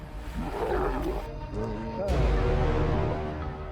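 Lions fighting in the wild let out a loud, deep, rumbling roar close by, swelling and sustained with growling texture, with a narrator's voice over it.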